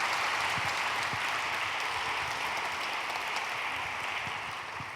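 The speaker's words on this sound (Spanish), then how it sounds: "le damos un aplauso a Darío" An audience applauds steadily at a church gathering, dense clapping that holds for several seconds and slowly fades, with no talk over it.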